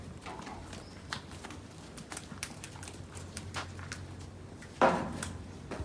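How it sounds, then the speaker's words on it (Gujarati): A cow walking around on a farm, its hoof steps landing as scattered soft clops over a low background, with one sharper noise near the end. "ગાય હરવા ફરવા મંડી છે"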